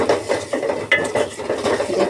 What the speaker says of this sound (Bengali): মশলাটাকে দিয়েও আমি এটাকে ভালো করে কষে নেব